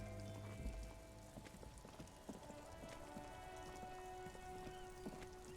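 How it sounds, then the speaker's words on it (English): Steady rain falling over the city of Revachol in Disco Elysium, a soft continuous patter with scattered drips, faint and ambient, with no voices. "All around you, rain falls on the great city of Revachol."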